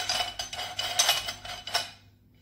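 Metal meat-mincer disc and parts of a Modex 1200-watt kneader being taken apart, close sharp clinks and light metallic taps in a quick irregular series, then quiet.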